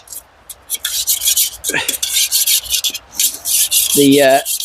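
Metal spoon scraping the inside of a can that held chili con carne at a snowy camp, loud close rasping strokes in an irregular rhythm, with a brief murmur of voice near the end.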